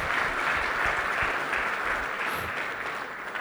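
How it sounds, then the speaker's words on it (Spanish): A church congregation claps during a sermon, steady dense applause throughout, moderately loud and fading slightly at the end. "¿Le das un aplauso al Señor ahí donde estás?"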